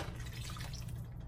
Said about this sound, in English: I'm gonna add some more water to it.